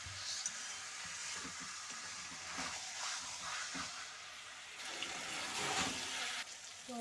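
Broccoli with potato and tomato sizzling and hissing in a hot pan, a steady broadband frying sizzle with occasional stirring clatter throughout.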